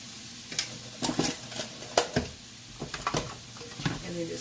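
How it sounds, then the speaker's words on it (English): Spoon stirring flour into sizzling onions in a pan for Salisbury steak, close scraping and clinking in irregular strokes over a soft frying hiss. "And then just mix it around like this."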